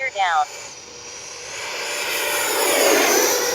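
A Freewing MiG-29 Fulcrum RC jet with a turbine whine flies by with its landing gear lowered, swelling steadily from a distant hiss to a loud, close roar after a brief electronic voice chirp at the start.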